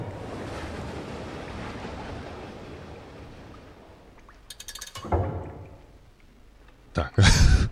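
Water pouring and rushing out in the video game Limbo, a steady broadband wash that thins out midway, followed by a few short splashy bursts and a louder gush near the end.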